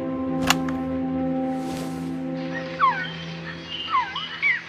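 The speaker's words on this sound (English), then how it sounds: "She went out into the jungle to record bird calls and stumbled upon this." A recorded bird call plays in the jungle setting of Metal Gear Solid Peace Walker: several short, swooping chirps and whistles over a steady hum of game music and ambience, coming in the second half.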